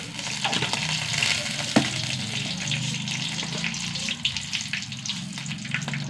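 Mustard seeds splutter in hot coconut oil in a pan, a continuous crackling sizzle scattered with sharp little pops and one louder snap, steady and close throughout.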